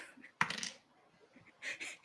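Dice roll on a table during a Vampire: The Masquerade tabletop role-playing game, a sharp clatter followed by short rattling and a second burst of tumbling clicks, close and fairly quiet.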